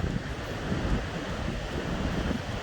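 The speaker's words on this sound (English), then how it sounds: "We got a southerly buster coming through, which is a huge surf" Heavy surf pounds Murray's Beach at Sawtell as a southerly buster blows through, a dense continuous roar of breaking waves mixed with gusting wind buffeting the microphone.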